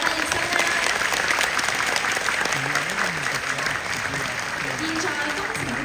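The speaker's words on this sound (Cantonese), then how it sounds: "我哋再一次俾熱烈掌聲，每一位畢業生啦！" An audience at a children's graduation performance gives sustained, even applause, a dense wash of clapping with voices faintly heard beneath it.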